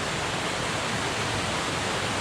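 Steady broadband rush of a waterfall along the Beaver Brook trail on Moosilauke, swollen with spring runoff, roaring continuously and close with no voices.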